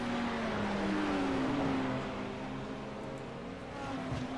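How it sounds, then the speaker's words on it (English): A Porsche GT3 race car at Knockhill circuit drives deep into a corner. Its engine drones steadily at mid distance, and the pitch sweeps down and back up as the car brakes and accelerates, with no speech. "Maximilian can drive that Porsche so deep into the corner"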